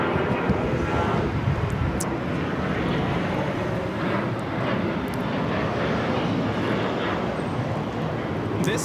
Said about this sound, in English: 1192 taking off to Portland on the 737-800